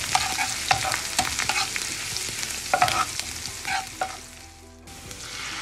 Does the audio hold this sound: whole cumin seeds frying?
yes